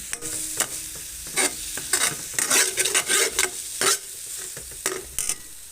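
Corned beef with eggs is stirred in a pan over lowered heat, a spoon scraping in quick, irregular strokes above a soft, steady sizzle, close up and without talk.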